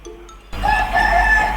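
A rooster crows in the Roblox video game: after a brief quiet lead-in, a loud, sustained cock-a-doodle-doo call starts abruptly and rings out clearly, with no talking over it.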